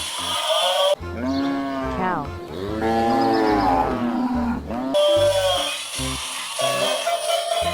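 Toy cow mooing, a long, loud, drawn-out electronic moo with a rough, roaring tone, heard close and alone between short bursts of bright electronic sound.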